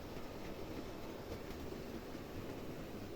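A Bachmann Class 37 model locomotive with a DCC sound chip gives off a steady, dense diesel engine rumble, faint and continuous, with no voices.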